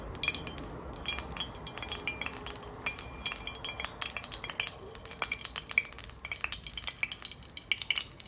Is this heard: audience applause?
no